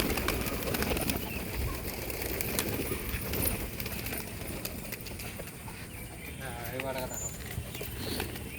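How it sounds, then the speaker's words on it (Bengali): Pigeons of an old bloodline coo in a home loft, soft low calls surfacing through a steady, noisy background with a bird's call more distinct near the end. "পায়রা সব ডেকে গেছে।"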